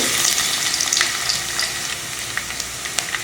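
Fennel seeds and garlic crackle in hot sesame oil for a pepper masala chicken base, a bright steady sizzle close by with scattered sharp pops and spits.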